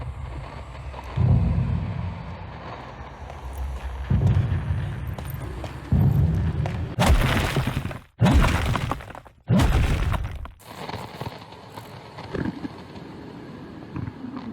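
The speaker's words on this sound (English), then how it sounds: "hearing the Descent's pounding in the distance as it fights through and crushes the tribe's warriors" Heavy pounding and smashing echo through a cave, arriving as a series of deep, booming crashes spread over several seconds. Some of the impacts break into loud, shattering bursts, with a low rumble lingering between them.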